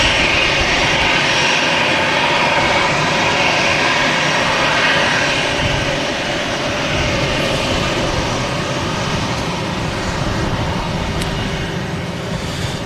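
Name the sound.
TAP Express Embraer jet aircraft at Manchester Airport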